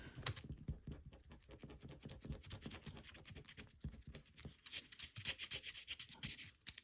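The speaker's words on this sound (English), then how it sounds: "Actually, let me write this a little bit lower on the paper." A pen scratches steadily on paper during an algebra lesson, a quiet close-up run of rapid rubbing strokes with short pauses between them and nobody talking.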